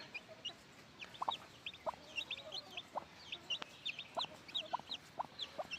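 Free-range native chickens on a farm give repeated short clucks, some near and some farther off, in an uneven pattern over a steady low background hiss.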